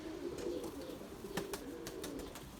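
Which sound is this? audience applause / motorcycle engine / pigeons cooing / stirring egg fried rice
pigeons cooing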